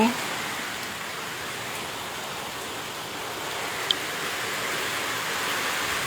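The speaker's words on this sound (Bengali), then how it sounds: "ঝড় বৃষ্টি হচ্ছে" Stormy rain from Cyclone Remal falls in a dense, steady roar of broadband hiss, unbroken and fairly loud for several seconds, with one small tick partway through.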